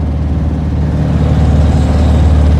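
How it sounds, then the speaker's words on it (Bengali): Strong wind buffets a trawler at night on a trip toward a cruise ship in the Sundarbans. It makes a loud, steady low roar and rumble that blends with a running engine, with no break. "দেখেন কি পরিমাণ বাতাস, আমি জানি না আমার কথা শুনতে পাচ্ছেন কিনা।"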